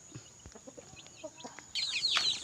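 Chickens and chicks on a farm give short, soft clucks and peeps in an irregular scatter, and a sharper, louder burst of squawking breaks in near the end.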